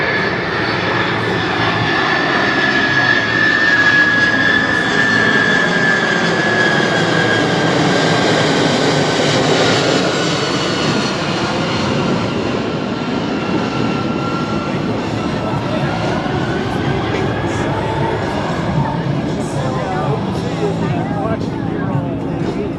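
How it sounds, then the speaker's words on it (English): At an airshow, a C-5M Super Galaxy in slow flight passes with a loud, sustained jet engine roar and a whining tone that rises, then falls as it goes by, while an announcer talks over it. "Here you go, ladies and gentlemen, slow flight. This C-5M Super Galaxy."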